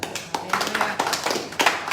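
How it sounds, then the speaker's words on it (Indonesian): Congregation clapping hands at a charismatic church worship service, a burst of quick, close, overlapping claps in an uneven rhythm with no talk. "Tepuk tangan buat Yesus."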